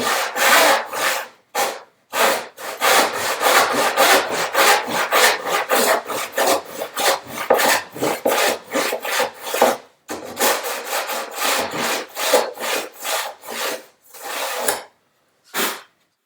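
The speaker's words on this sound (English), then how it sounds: "That is the dado saw in practice." A dado saw cuts wood joinery for a bookcase build in repeated loud rasping bursts, each stroke a short, harsh scrape separated by brief gaps, close up with no talk over it.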